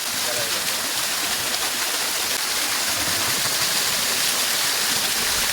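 Kumbakkarai waterfall in Theni pours steadily, producing a dense, continuous broadband roar of rushing water that stays loud and close with no break.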